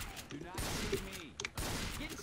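Gunfire in Left 4 Dead video game, close loud bursts of shots at the start and again near the end, with game sounds and a brief voice between them.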